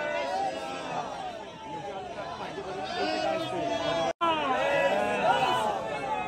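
Dense crowd of Kumbh Mela pilgrims at Prayagraj, voices overlapping in continuous chatter and rhythmic chanting of religious slogans, loud and close throughout.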